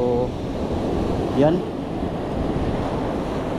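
Sea waves break on a reef in the early morning at an offshore fishing spot, a continuous rolling surf mixed with heavy wind buffeting the microphone, with a brief spoken word.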